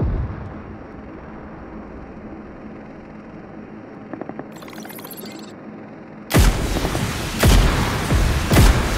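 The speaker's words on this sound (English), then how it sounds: "Firing sounds detected." Heavy gunfire and cannon blasts from a tank video game in a King of Payload match: a low ambient rumble gives way to a few sharp reports, then loud booming shots near the end, with no talking.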